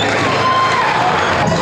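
Crowd noise from a packed court at a 21-and-under inter-barangay basketball championship game in San Pablo City, a steady dense roar of cheering spectators with faint ball bounces, continuous throughout.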